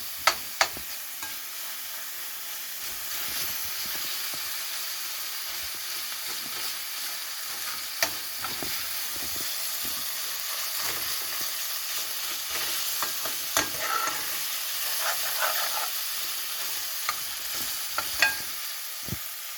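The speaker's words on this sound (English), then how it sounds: "So all the mashed or the diced tomatoes gonna go in. And you gotta stir it" Diced tomatoes fry in a pan for butter chicken, a steady soft sizzle broken by irregular scraping and clacking as they are stirred, with no talking.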